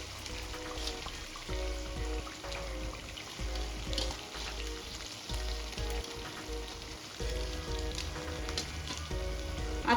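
Small vam fish sizzling and sautéing in a pan of green masala, a steady loud frying crackle with occasional stirring scrapes, no talking.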